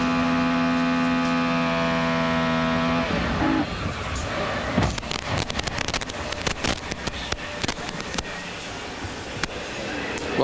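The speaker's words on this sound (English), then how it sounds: "Listen to the sound of the engine here" A race car engine at the 1998 Pep Boys 400 howls flat out at a steady high pitch for a few seconds, then suddenly quits into rough clattering and bangs.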